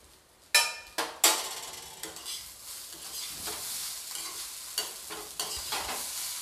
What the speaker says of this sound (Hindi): मैं हल्के हाथों से चलाएं, नीचे से चावलों को उठाएं ताकि चावल टूटे नहीं